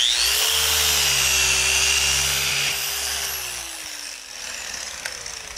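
A car polisher buffing the paint of a Porsche 718 GT4 whines at a high, steady pitch, its motor tone dipping slightly as pressure changes, then winding down and fading near the end.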